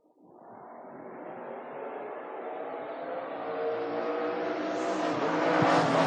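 A drag race car in a door-wars bracket event, a Barracuda among the entrants, roars down the strip under hard acceleration, its engine note climbing steadily and growing louder over about six seconds.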